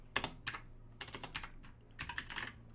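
Typing on a computer keyboard while working on a JavaScript and Python open source project, bursts of quick close key clicks separated by short pauses, with no speech.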